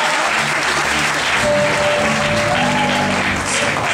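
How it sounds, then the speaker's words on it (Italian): Applause from an audience at a choir or music performance, a dense steady clatter of many hands held throughout at full level, with no talk over it. "Un applauso per questo tempo."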